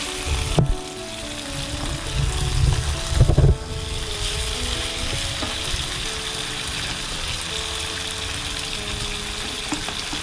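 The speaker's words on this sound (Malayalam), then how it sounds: "ഇത് ഈ ഹൈ ഫ്ലെയിമിൽ തന്നെ ഒന്ന് ഇളക്കി കൊടുക്കണം" Chicken curry in green gravy is stirred over a high flame. It makes a steady, close sizzle and bubbling, with two heavier bursts of stirring near the start, then a continuous frying hiss.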